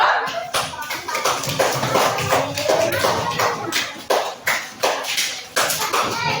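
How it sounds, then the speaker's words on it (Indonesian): Classroom students clapping together for a group after its presentation, a steady run of dense hand claps filling the room with a few louder bursts. "Beri tepuk tangan dulu."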